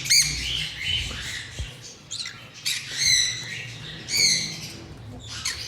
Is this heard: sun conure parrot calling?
yes